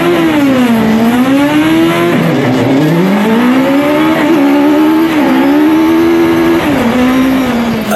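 A 1600 buggy on its first lap of a race circuit, engine roaring loud and close with rising and falling revs through gear changes and corners, continuous throughout.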